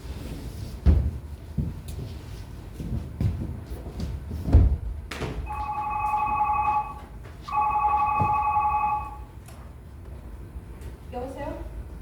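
A telephone rings in two clear bursts amid a stage rehearsal, with door and cupboard knocks before it and a voice starting as it is answered.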